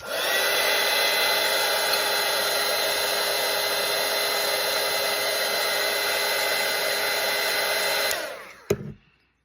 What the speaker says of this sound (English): So I have my nifty little dryer right here, so I'm just going to go ahead and make it dry.